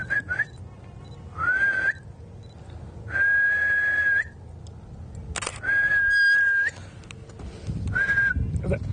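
A person whistles a series of short, high tones, some rising and some held, broken by pauses, close and fairly loud against a quiet background.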